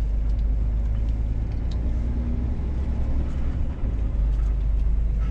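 Scania S500 truck cruising on a road at night, a loud continuous low drone and rumble from the cab with steady road noise and a slight dip near the end.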